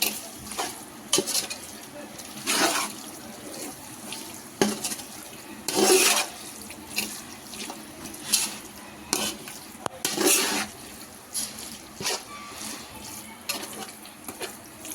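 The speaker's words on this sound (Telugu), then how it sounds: "ఇప్పుడు కీమా కూడా కొంచెం సేపు ఆయిల్లో బాగా కుక్ చేసుకుందాము" Minced mutton keema being stirred in hot oil in a pan, with bursts of scraping and sizzling at irregular intervals over a low steady fry, close and moderately loud.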